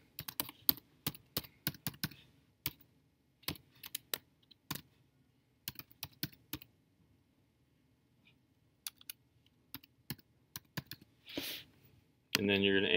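Someone types on a computer keyboard up close in a quiet room, with crisp clusters of key clicks separated by pauses. A voice starts speaking at the very end.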